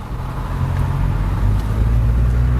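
A 2014 Nissan Note with an automatic gearbox drives along the road, heard from inside the cabin as a loud, steady low engine and tyre rumble with no talking.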